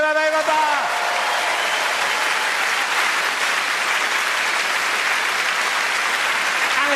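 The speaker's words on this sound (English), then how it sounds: "Give him a round of applause." A stand-up comedy audience breaks into loud, sustained applause, a dense wash of clapping that holds steady for several seconds after a brief voice at the start.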